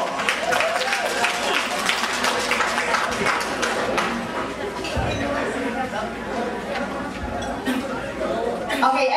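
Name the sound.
applause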